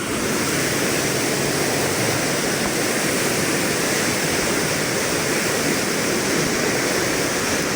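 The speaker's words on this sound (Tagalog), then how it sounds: "medyo malakas lang. Malakas ang agos." A loud, constant rush of fast-flowing water, a powerful river current roaring steadily without pause.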